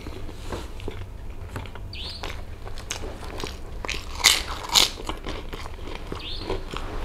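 Someone bites into tahu tek, fried tofu with lontong rice cake doused in peanut sauce and petis, giving two sharp crunchy bites close to the mic amid soft chewing and background noise.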